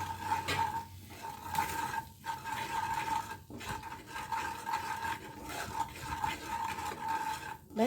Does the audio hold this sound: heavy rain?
no